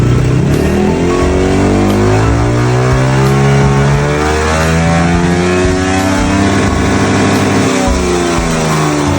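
A remapped Honda ADV160 scooter revs hard toward top speed while on its center stand, a loud sustained engine wail with rising and falling pitch sweeps, no talk.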